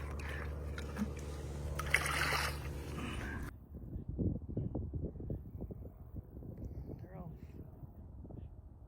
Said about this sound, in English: I'm basically just bringing them over and pouring them into the pond